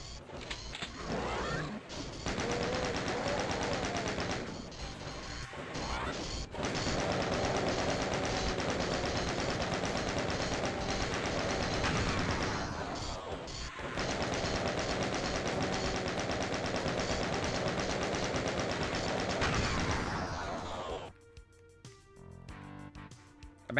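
Rapid sustained chaingun fire in the classic Doom video game, dense rattling bursts running for long stretches with brief pauses and a few breaks between volleys.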